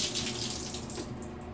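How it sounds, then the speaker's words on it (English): Running water pours steadily onto hair during washing, a close continuous splashing rush like a faucet stream without any talking. "I'm gonna put a little bit of water on my hair."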